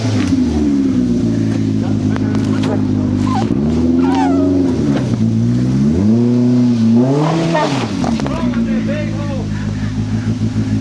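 Off-road 4x4 engine revs hard on a flooded mountain trail while a tire sits stuck and spinning, close and continuous with rising and falling revs, as people talk over it.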